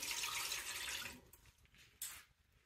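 Water poured into the base of a Ninja Speedi air fryer, a steady close splashing pour for about a second and a half, then thinner trickles and a brief final splash.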